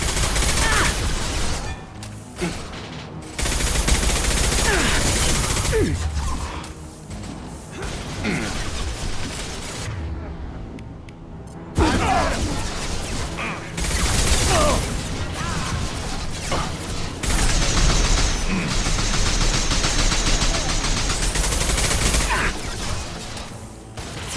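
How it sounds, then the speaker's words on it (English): Heavy sustained gunfire and crashing impacts in a Mass Effect 2 firefight, loud and dense throughout with brief lulls, mixed with game sound effects and voices talking over the action. "Taking heavy fire!"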